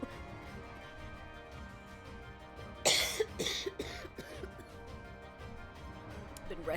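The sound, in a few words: coughing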